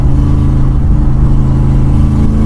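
A 1966 Ford Mustang's engine revs hard and steadily through a burnout, a loud, continuous, close-up mid-range roar with no pauses.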